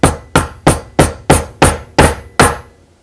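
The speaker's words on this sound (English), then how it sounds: "I guess I'll know when I start hitting it with a hammer again." A hammer repeatedly strikes a Prince Rupert's drop of toughened glass, giving eight sharp, loud impacts at a steady rhythm of about three per second, each ringing briefly before the next blow.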